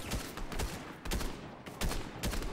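Bursts of gunfire in the Fortnite video game, several sharp loud volleys of shots in quick succession with short gaps between them.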